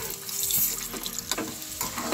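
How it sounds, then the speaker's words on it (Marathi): Small potatoes frying in a little oil in a pan for Kashmiri aloo, a continuous close sizzle and crackle with a faint stirring scrape, no speech. "थोड्याच तेलामध्ये आपल्याला हे छान फ्राय करायचे आहे"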